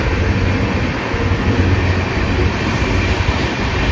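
From inside the Andaman Express on the Chennai to Katra run comes a loud, continuous rumble of wheels and carriage with steady rattling, and no speech.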